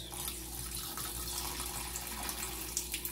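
Tap water running and trickling into a kitchen sink full of dishes, a continuous close splashing stream with small irregular drips, steady for about three seconds with no voices.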